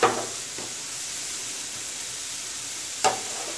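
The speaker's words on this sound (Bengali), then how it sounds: "গাজরটাকে আমি ভেজে নিচ্ছি একটু" Grated carrots frying in a pan for carrot halwa, a steady broad sizzle throughout with a couple of brief scrapes of the spoon.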